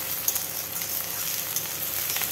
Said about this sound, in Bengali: পেঁয়াজটাকে কিছুক্ষণ সময় ধরে ভেজে নেব।